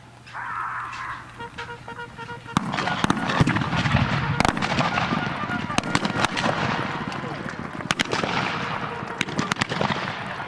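Pistol shots crack out repeatedly from cavalry troopers charging across a parade field at a military memorial ceremony, irregular sharp bangs over a steady background of crowd noise and hoofbeat rumble.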